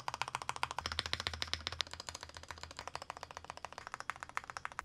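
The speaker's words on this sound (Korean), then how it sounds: "이거 지금 스테빌라이저 소리 들어보셨죠?" Stabilized keys on a WhiteFox Eclipse mechanical keyboard resting on a large desk pad are pressed again and again, giving a fast, steady run of crisp, clacky keystrokes at close range, with no talking.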